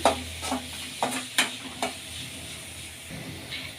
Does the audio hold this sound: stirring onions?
yes